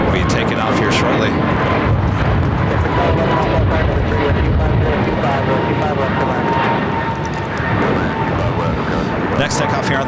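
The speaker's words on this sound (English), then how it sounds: "China Eastern Airlines flight 586 heading to Shanghai in a 777-300ER. We'll be taking off here shortly." A China Eastern Airlines Boeing 777-300ER taking off at Los Angeles International Airport, a loud continuous jet engine roar with broad rumble that holds steady throughout, sounding close and powerful.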